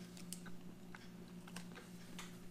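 Close, quiet crunching and chewing of a chocolate bar with crunchy rice in the middle, from a 2016 French RCIR ration menu, a few soft crisp bites over a steady low hum.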